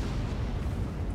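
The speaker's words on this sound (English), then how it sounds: "Big ol' explosion going in the back." A large explosion in the shooter game Planetside 2 rumbles as a low, steady roar of blast noise throughout, dense and sustained rather than a single sharp bang.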